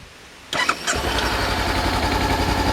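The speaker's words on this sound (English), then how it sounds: "we'll start it up now and we'll show you how the exhaust sounds." A 2014 Honda CBR500R motorcycle engine cranks and catches after a moment of quiet, then settles into a steady, throbbing idle close by, around 1100 rpm.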